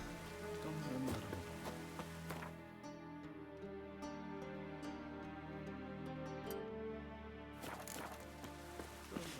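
Rain falls steadily in The Witcher 3 game world, a constant patter of drops on surfaces layered under a sustained musical bed, with a few sharper splashes and taps scattered throughout.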